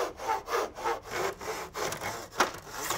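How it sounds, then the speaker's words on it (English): A hand saw cuts through timber held in a mitre box, its steady back-and-forth strokes rasping close and loud in an even rhythm of about eight strokes. "Hold the timber hard up against the back edge of the mitre box, and before you start cutting"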